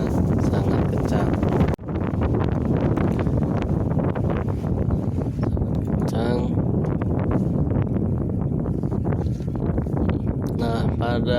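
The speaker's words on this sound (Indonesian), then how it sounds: "Namun hanya saja anginnya sangat kencang." Strong wind at the mouth of the Merapi volcano crater buffets the microphone in loud, continuous gusty rumbles, with a voice talking over it.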